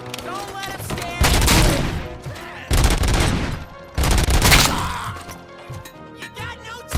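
Gunfire in RoboCop: Rogue City, with heavy bursts of shots and impacts crashing in several loud waves amid shouting enemies and combat noise.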